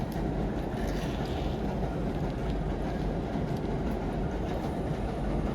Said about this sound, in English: oh, let the train go.